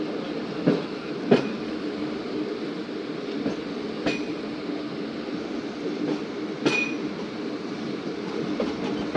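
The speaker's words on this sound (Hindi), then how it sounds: "5 मिनट के क़याम के बाद दोस्तों ट्रेन रवाना हो गई हमारी बस्ती दरवेश लाशारी से" Musapak shuttle train on the Multan to Dera Ghazi Khan line pulls away from Basti Darvesh Lashari and rolls along the rails: a steady, close rumble broken by sharp clacks from the wheels, with no voices.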